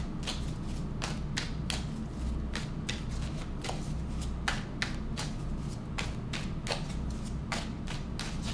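Tarot cards being shuffled by hand, a steady run of crisp riffling snaps repeating about every half second, close and fairly loud against a low background hum, with no voices.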